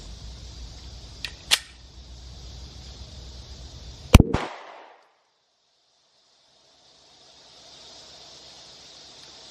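Smith & Wesson Shield pistol fired at a range: a couple of sharp gunshots with a louder close crack near the middle, ringing briefly before quiet.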